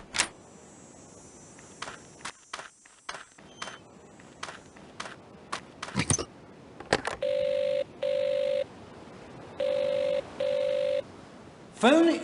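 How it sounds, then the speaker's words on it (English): A telephone rings in an Agatha Christie mystery video game: four even electronic double rings, preceded by scattered clicks and footstep-like taps in a quiet room. "Phone isn't much good if no one will answer it."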